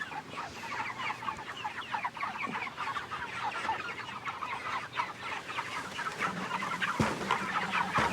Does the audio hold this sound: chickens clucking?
yes